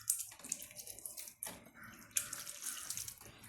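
Water poured over grated raw cassava in a bowl for washing: a close, splashing trickle with uneven surges and wet hand movements, no voices.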